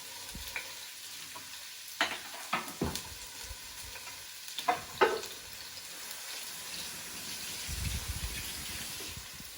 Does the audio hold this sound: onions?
yes